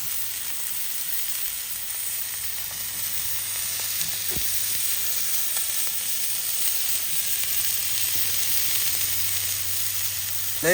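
A prime ribeye steak sizzles steadily on a Traeger Flatrock griddle, a continuous bright crackling hiss heard up close with no talking.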